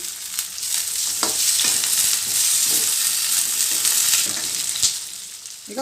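Green and Byadagi chillies fry with mutton in hot oil, a loud bright continuous sizzle with occasional scraping strokes of stirring and a few sharp crackles.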